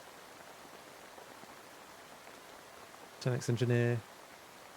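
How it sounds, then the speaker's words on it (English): Steady soft rain hiss fills the background as a focus ambience, low and continuous, with a short burst of speech near the end. "the rain sounds are mostly to keep me focused"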